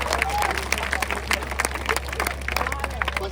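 Concert audience clapping along in bursts, a busy crowd with scattered claps and murmur over a steady low hum, moderately distant and lively.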